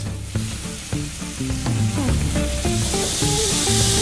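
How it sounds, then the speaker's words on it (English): Lamb sears with its back fat down in a hot pan, the fat rendering in a loud, steady sizzle. Occasional tonal clinks and scrapes from utensils or the pan sit over the crackle, which builds slightly and holds for the whole stretch. "We're now going to stack the lamb next to each other in the pan on the back fat because it's really important that you render down that fat."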